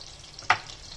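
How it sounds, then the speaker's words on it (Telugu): Thinly sliced onions dropped into hot oil for a spicy chicken roast, giving one short, sharp sizzle burst over faint background frying. "ఆయిల్లో మనం సన్నగా కట్ చేసుకున్న ఉల్లిపాయ ముక్కల్ని వేసేసి లైట్ గోల్డెన్ కలర్"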